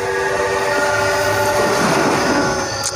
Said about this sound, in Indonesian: Oke, ini keretanya.